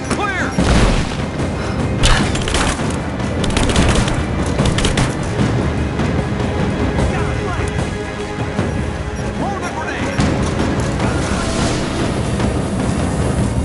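Sustained in-game gunfire and crashing impacts in Rise of the Tomb Raider, loud and dense throughout with splintering wood and booms mixed in, under a steady game soundtrack.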